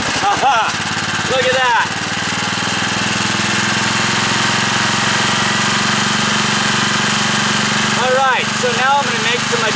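A small generator engine running on wood gas from a wood stove chugs steadily and loudly with a rough mechanical knock, close by, while someone talks over it at the start and near the end.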